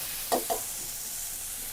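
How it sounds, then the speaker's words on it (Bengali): Onion frying lightly in a pan before potatoes and bitter gourd go in, a soft constant sizzle broken by two quick scraping stirs early on. "এখানে পেঁয়াজ দিলাম, আজকে পেঁয়াজের আইটেম বেশি, তো পেঁয়াজটা একটু হালকা আগে ভেজে নিই।"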